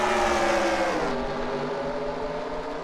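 Race cars in the Snickers Cup Series at Thornton accelerate off the green flag start on a long straightaway, a loud, dense roar of several engines revving up together close by, with no talking.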